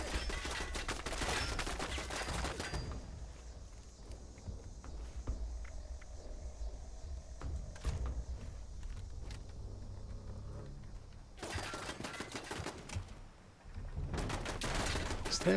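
An automated turret opens fire in the post-apocalyptic game Fallout 76, loosing a dense rattling burst of rapid shots, then a quieter stretch of ambience before a second sustained volley erupts near the end.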